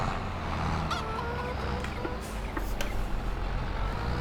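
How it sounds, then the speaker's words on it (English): A tractor engine rumbles steadily in Farming Simulator 22 while chickens cluck and squawk nearby in short scattered calls over the continuous machine drone. "That chicken is chasing the tractor."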